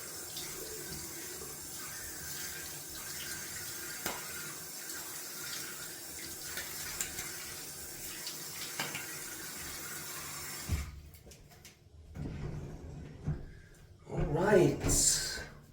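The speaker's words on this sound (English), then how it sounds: "just gonna then rinse off the alum" Tap water runs steadily into a sink for a wet-shave rinse after alum, a soft continuous splash that cuts off near the end, followed by brief handling noises and a short burst of running water.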